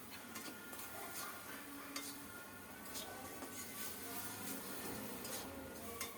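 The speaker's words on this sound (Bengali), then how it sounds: "দাঁড়িয়ে থেকে ভালো করে নেড়ে চেড়ে মশলাগুলো কষিয়ে নেব" A spice paste of ground tomato, turmeric, chili powder and salt is stirred and fried without water over low heat. A spoon scrapes and taps the pan in a faint, repeated rhythm under a gentle sizzle.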